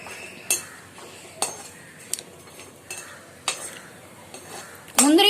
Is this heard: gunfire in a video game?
no